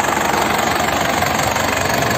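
A 2003 Isuzu Panther LS diesel engine idles steadily up close, a continuous loud mechanical rumble with a faint knocking clatter and no voices.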